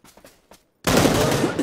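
Gunfire in the PUBG console game: a few faint distant pops come first, then after a short gap a loud, dense burst of close shots and rattling fire runs to the end.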